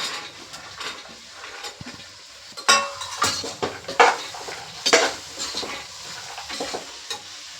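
Chopped vegetables for pulao go into a hot pan and are stirred with a metal spoon, producing steady sizzling under repeated scraping and clinking against the pan, close and fairly loud.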